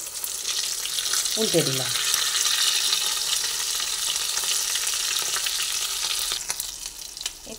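Flat beans stuffed with prawn filling frying in oil, a dense, loud and close sizzle that runs on steadily, with a short spoken remark near the start.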